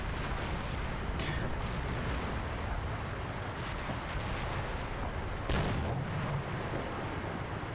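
Tank guns firing in the wargame Combat Mission: Battle for Normandy, a few booming shots with a sharp report near the middle, set against a continuous rumbling battlefield background.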